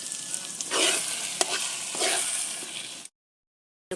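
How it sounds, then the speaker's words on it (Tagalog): Garlic sizzling in hot chili oil as it is stirred, a bright crackling fry with scraping strokes of the spoon, then cutting to silence near the end. "Hinalo na ang bawang"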